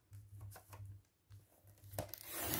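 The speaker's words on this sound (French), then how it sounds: "il faut que j'arrive à le découper à la moitié" Paper advertisement being cut in half for a homemade album, with crisp tearing and crinkling strokes in a few bursts, close and fairly quiet, and a louder rustle near the end.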